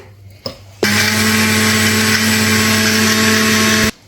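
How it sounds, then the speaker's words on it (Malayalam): A kitchen blender grinds yogurt with cashews into a masala for a pressure-cooker biryani. After a brief knock, the motor kicks in loud and close with a steady high whine for about three seconds, then cuts off abruptly. "നമ്മൾ യോഗട്ടും എല്ലാം ചേർത്താണ് ഇതിപ്പോ അരച്ചേക്കുന്നത്"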